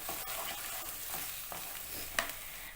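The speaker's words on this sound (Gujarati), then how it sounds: "અંદર જે પેસ્ટ રેડી કરી હતી તે ઉમેરી દેશું. એકવાર હલાવી લેવું જેથી બળે નહીં." A prepared paste cooks in a pan for panch dhan khichdo, with soft spoon scrapes and taps against the pan over a low, steady sizzle, fairly quiet and close.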